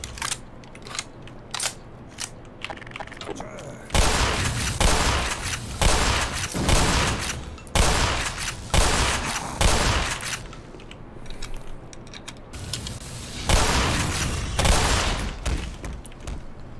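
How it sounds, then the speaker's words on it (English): Enemy gunfire in the shooter game Black Mesa, made up of repeated loud bursts of rapid shots with short pauses between them, including a long sustained volley. Occasional quiet talk sits underneath. "Okay, now they're shooting."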